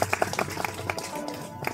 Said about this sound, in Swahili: Makofi jamani kwao kidogo.